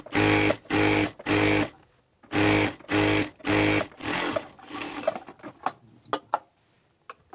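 A sewing machine runs a side seam on a salwar pant in six short bursts of rapid stitching with short pauses between them, followed by scattered clicks and taps of handling the fabric.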